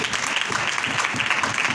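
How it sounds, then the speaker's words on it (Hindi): Audience applause at a Christian sermon gathering, a dense steady clapping from many hands sustained without pause and fairly loud throughout. "तालियां तालियां"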